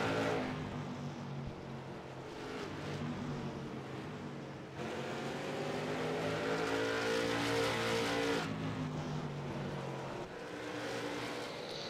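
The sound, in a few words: race cars on track in sim racing video game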